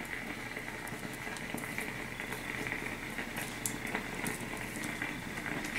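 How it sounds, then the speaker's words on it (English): Facial steamer with water boiling inside, a steady close bubbling and hissing that runs continuously at moderate loudness with no voices. "I still got my steamer going."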